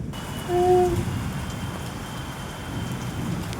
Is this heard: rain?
yes